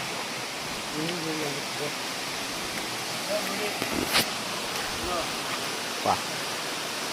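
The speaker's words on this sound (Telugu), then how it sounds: "చూసారా వాటర్ ఫాల్స్ ఎట్లా వస్తుందో, ఎంత ఫోర్స్గా వస్తున్నాయి తెలుసా" A forceful waterfall near a hillside temple roars as a steady broadband rush of falling water, with faint indistinct voices and a few brief sharper splashes over it.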